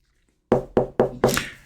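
Four firm knocks sound close by after a moment of silence, evenly spaced, the last one slightly heavier.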